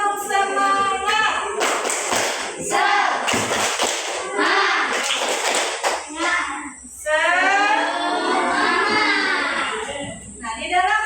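A class of children performs a rhythmic clapping chant, with sharp hand claps punctuating their loud, close group voices throughout.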